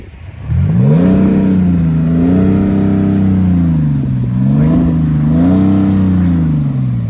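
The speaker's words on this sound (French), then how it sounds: "Ça sonne très bien pour un diesel, les gars, honnêtement." A BMW X5 M50d diesel engine revs loudly up close, rising and falling in smooth repeated sweeps of deep, throaty tone that hold strong for several seconds.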